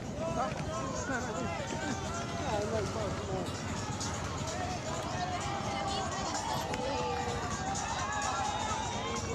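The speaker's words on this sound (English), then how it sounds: "So the crowd urging them on into the final stages." A crowd at the finish of the 2019 Lima ITU Triathlon World Cup elite women's race keeps up a dense, steady roar of cheering and babble, with voices and running footsteps blended throughout.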